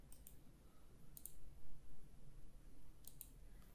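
A few faint, crisp computer mouse clicks, spaced apart in a quiet room, isolated taps separated by low background hiss.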